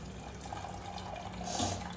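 Hot jaggery water is strained, pouring and trickling through a strainer in a soft, continuous stream that swells briefly toward the end, close by.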